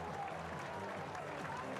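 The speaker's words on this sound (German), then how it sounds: "Der Jubel zurückhaltend, sowohl auf dem Feld als auf der Tribüne." Subdued cheering and applause from the stands after a 1:1 equaliser goal in a German Regionalliga football match between FC Homburg and Stuttgarter Kickers, a steady, moderately loud crowd wash with no distinct voices.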